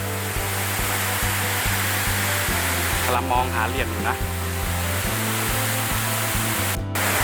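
A waterfall on a multi-tiered trail in Khao Laem National Park, Kanchanaburi, gives a steady, dense rush of falling water close by, with a low mechanical hum beneath and someone talking over it throughout.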